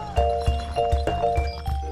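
A horse walks with steady clip-clopping hooves, about six close, loud hoof strikes in even rhythm over a constant engine-like drone.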